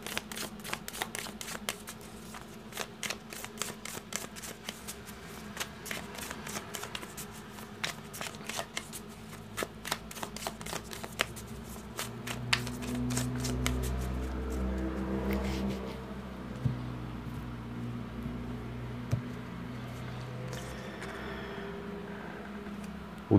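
A full Egyptian tarot deck is shuffled by hand in long runs of crisp riffling clicks, close and fairly quiet, with a lower muffled handling noise midway before the riffling resumes.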